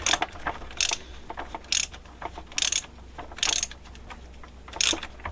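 A ratchet snugs up a lower link mount bolt, giving bursts of rapid clicking that repeat roughly every second with pauses between, close and clear, with no voices.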